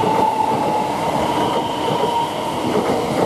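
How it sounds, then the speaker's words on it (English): A train departs Manningtree station on the London Liverpool Street to Ipswich service, its loud, steady rumble of wheels and rails close by, with a faint whine running throughout. "1312 from Ipswich to, from London Liverpool Street to Ipswich, is just now departing."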